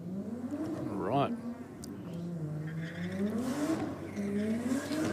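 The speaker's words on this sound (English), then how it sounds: "That Commodore Ute doesn't sound like a normal Commodore Ute" A Holden Commodore Ute race car at a racing event roars past with a rising, sweeping engine note and a brief sharp pitch swing, loud and close before fading.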